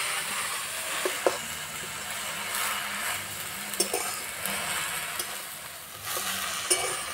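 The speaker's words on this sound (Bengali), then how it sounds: "এইভাবে কিছুক্ষণ নাড়াচাড়া করে নেব" Leafy note shak greens frying in a pan with no water added, stirred now and then, making a steady close sizzle broken by soft scraping stirs.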